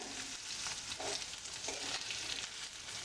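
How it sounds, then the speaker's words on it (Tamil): Onions sautéing in a pan with mustard seeds, lentils, cumin and asafoetida for white pumpkin sambar, a steady close sizzle with occasional stirring scrapes. "வெங்காயத்தை ஒரு ரெண்டு நிமிஷம் வதக்கி விடுங்க"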